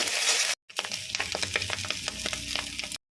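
Leftover rice frying and being stirred in a pan with fried potatoes and papad, a loud close sizzle broken by a brief pause, then crackling with scraping stir strokes until it cuts off.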